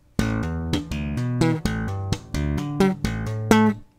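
Percussive electric bass line with snappy thumb slaps and sharp popped notes in a funky rhythmic phrase, played solo and up close.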